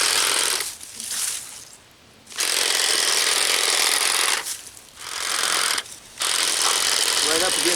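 A string trimmer cuts grass along rocks in a yard, loud high buzzing bursts with the motor revving and easing off in short pauses, close by, with no voices over it.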